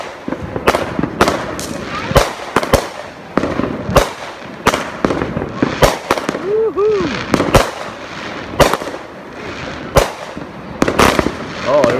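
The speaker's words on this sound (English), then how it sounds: "We got Tiger Family Life Fireworks Show." Fireworks cakes from the Tiger Family Life show go off at a Fourth of July display, a loud, rapid volley of sharp bangs and crackling bursts with whistles, while people talk and cheer over them.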